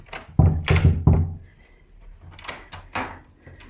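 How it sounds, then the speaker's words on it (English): Knuckles rap on room 202's door at the Unicorn Hotel in Ripon: three loud, close, wooden thuds in quick succession, then a few softer knocks after a pause. "So I'll just knock on the door."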